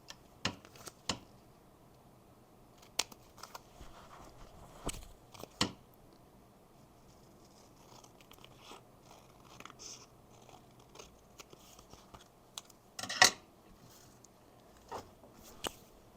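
Scissors trim excess paper from a small craft tag, giving sparse, faint snips and crisp clicks spaced irregularly across a quiet room, with one sharper paper crinkle near the end.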